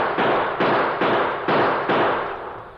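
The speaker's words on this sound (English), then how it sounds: "Shoot at his gun flashes." Five sharp gunshots fire at a steady rhythm in a radio drama shootout, each loud crack fading before the next, close and alone without voices.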